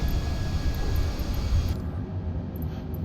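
Sustained airliner engine drone from Microsoft Flight Simulator 2020, a steady low roar with a thin whine that eases partway through as the aircraft begins its descent.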